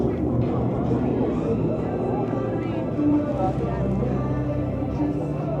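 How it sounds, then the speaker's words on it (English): A crop duster airplane flies at an airshow in Las Vegas, a steady droning engine roar heard from a distance beneath crowd noise and people talking. "That boy's a crop duster for sure."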